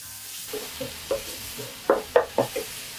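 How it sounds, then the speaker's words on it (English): Ground pork seasoned with salt and pepper fries in a pan under a low sizzle, broken by several sharp spatula scrapes and taps that grow louder toward the end. "Fry it until it's browned all over."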